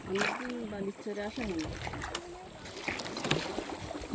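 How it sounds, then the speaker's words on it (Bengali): People talk and call out while a boat is rowed by hand in Marichjhapi forest at Lakshmikhali, with splashes and water sounds from the oars beneath the voices. "সবাই মিলে নৌকাটা বেয়ে নিয়ে যাচ্ছে তাড়াতাড়ি"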